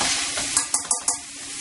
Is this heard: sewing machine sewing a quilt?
no